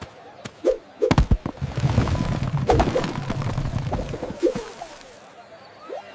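A cartoon bird calls and coos in an animated children's story about a flying samosa, amid a busy run of sharp effect hits and fluttering sounds.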